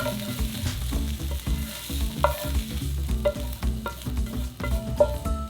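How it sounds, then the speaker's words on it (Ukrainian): Carrots fry in a pan with a steady close sizzle, broken by scattered clinks and scrapes of stirring. No voices. "Через хвилину додаємо моркву і обсмажуємо до золотавого кольору."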